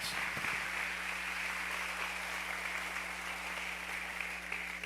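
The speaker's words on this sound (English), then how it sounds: "Everybody give themselves a round of applause." Town hall meeting audience applauding, a steady wash of many hands clapping at moderate distance, sustained for about five seconds with a low hum underneath and no talk.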